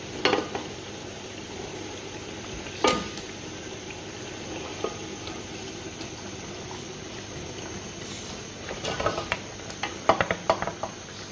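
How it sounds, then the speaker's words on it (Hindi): Chicken for korma bubbles and fries in a pot, with a low, steady simmer broken by a few sharp spoon knocks and a cluster of louder stirring scrapes near the end. "अब इसको फ्राई करना है।"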